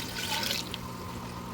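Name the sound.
pouring mutton stock water into biryani pot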